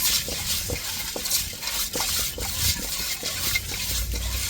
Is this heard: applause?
no